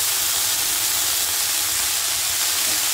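Washed chickpea greens hit a hot pan of fried eggplant with a loud, continuous steamy hiss and sizzle, close and unbroken for a few seconds, with no voices.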